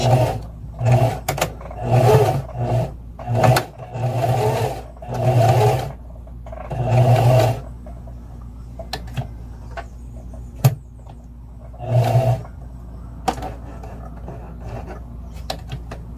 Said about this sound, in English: Make sure to back stitch at the beginning and the end to secure your stitch.